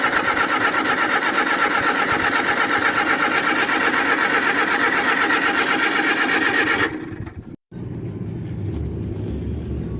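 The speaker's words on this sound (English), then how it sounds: "Okay, so give her a little throttle and see if she'll go." The engine of a 1958 Oliver 550 tractor, a gas model, runs loudly with a steady rapid chugging close by. It cuts out for a moment, then carries on at a lower, rougher pitch.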